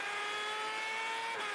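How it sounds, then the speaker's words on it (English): A North American F1000 race car with a 1000cc superbike engine screams at high RPM during qualifying at Road America, a thin, sustained high-pitched whine heard at a distance with a slight pitch shift near the end. "1C Superbike engines putting out the beautiful noise, and about 160 horsepower out of the back of these cars"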